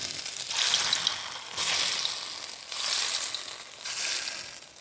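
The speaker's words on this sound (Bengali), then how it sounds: "এক সাইড ভালো করে ভাজা হয়ে গেলে এটাকে উল্টিয়ে আর এক সাইড ভালো করে ভেজে নেব লাল লাল করে।" Small prawn-paste fritters fry in hot oil in a kadai, giving a steady loud sizzle that swells and eases in waves, with no talking.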